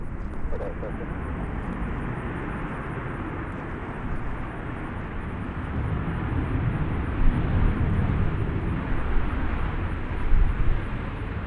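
A fixed-wing airplane at Nashville International Airport gives a broad, steady roar that slowly swells louder toward the end, heard from a distance with faint voices present.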